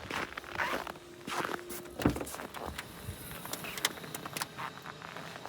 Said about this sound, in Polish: otworzymy sobie przednią maskę i zobaczymy, czy auto to ma przedni bagażnik